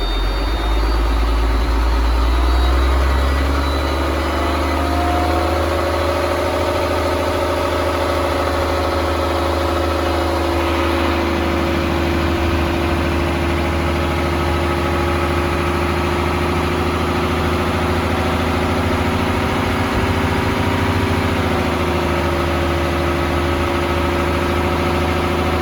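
A truck's diesel engine runs steadily throughout, a loud, continuous low rumble that shifts in pitch partway through, with a slight rise in engine tone during a governor cutoff test at a CDL pre-trip inspection.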